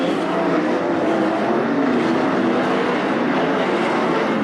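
World of Outlaws sprint cars racing in a heat race at Attica Raceway Park near the end of the race: a loud, continuous high-pitched engine roar from the pack, heard alone with no voices.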